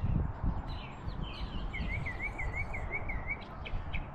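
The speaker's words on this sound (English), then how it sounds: "With the birds in the background." Birds sing in a park, with repeated chirps and a short trilling phrase rising over a steady low rumble of outdoor background noise and faint distant drumming.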